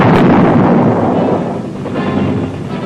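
Artillery fire from the Vietnam War pounds continuously, a loud, heavy rumbling roar of blasts and low booms that barely lets up across the few seconds of old documentary footage.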